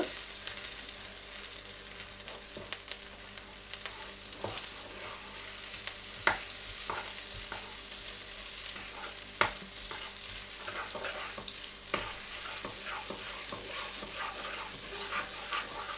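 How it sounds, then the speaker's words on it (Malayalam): A small piece of butter melts in a hot pan, giving a steady, close sizzle and crackle with scattered sharp pops, no voices. "ഒരു ചെറിയ പീസ് ബട്ടർ അത് ഇട്ട് കൊടുക്കാം. അതൊന്ന് മെൽറ്റ് ചെയ്തെടുക്കാം ബട്ടർ"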